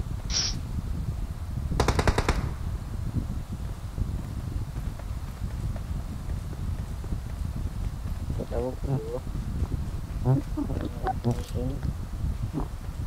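A sharp burst of rapid gunfire in PUBG Mobile erupts early, followed by scattered shots and faint voices over a steady noisy background.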